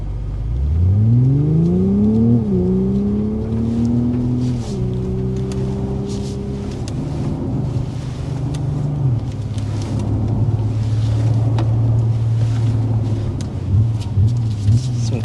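A rising electric whine sweeps upward as a 2026 Hyundai IONIQ 6 N electric car accelerates hard in sport mode, settling into a steady hum over road rumble.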